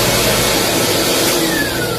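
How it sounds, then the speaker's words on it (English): A Canine 2 dog grooming dryer running inside a mobile grooming van, a loud, steady blower whine and rush filling the whole moment close to the microphone. "this van has a Canine 2 dryer down here. I'm going to turn this on briefly just to show you that it works"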